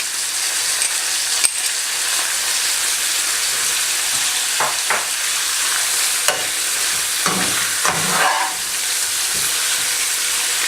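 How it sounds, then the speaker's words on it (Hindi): Crushed ginger and garlic fry in a pan for an Afghani Qabuli palao, giving a steady close sizzle with a few brief stirring scrapes and clinks, no talk. "3 से 4 मिनट के लिए इसको भी हल्का सा फ्राई करें।"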